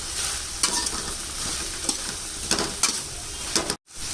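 Onion manchurian stir-fried in a pan, a steady close sizzle with a series of spatula scrapes and taps against the pan, ending in a brief silent cut.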